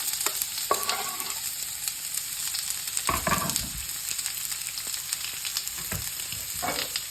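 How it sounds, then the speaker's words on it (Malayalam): Onion, ginger, green chili and curry leaves hit hot oil with a loud continuous sizzle, broken by sharp clatters and scrapes of a spoon stirring the pan. "നമ്മുടെ എണ്ണ ചൂടായതുകൊണ്ട് ഞാൻ നമ്മുടെ ഇൻഗ്രീഡിയൻസ് ഇട്ട് കൊടുക്കാൻ പോകണേ"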